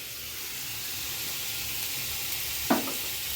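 Sliced onion fries in a small amount of oil with a steady, close sizzle for a few seconds, and a single utensil clink near the end.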